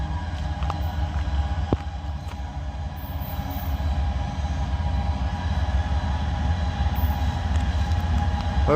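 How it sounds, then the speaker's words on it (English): Loaded coal train rolling past with its brakes fully applied, a steady low rumble of railcars and wheels with a few faint metallic squeals and clanks, continuous and fairly close, with no voices. "Looks like a coal train"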